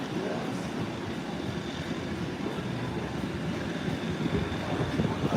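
An airplane turning off a runway onto a taxiway gives a steady, moderately distant engine roar and rumble that holds evenly throughout, with a slight swell toward the end.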